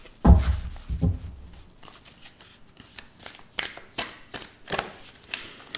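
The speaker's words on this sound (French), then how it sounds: "J'ai envie de remélanger un peu mes cartes." Tarot cards being reshuffled by hand, a quick run of crisp riffling and flicking close up, then a series of softer, evenly spaced card slaps and shuffles with no talking.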